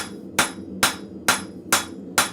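Five evenly spaced hammer blows from a cross peen strike hot metal at a blacksmith forge, each a sharp ringing impact with a short decay, close and loud, with no talking.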